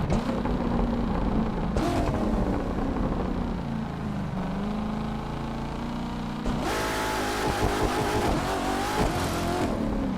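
A 2019 Corvette ZR1 Convertible in The Crew 2 on PS4, loud supercharged engine launching from a dead stop with wheelspin, revs rising, dropping at a shift, then climbing again.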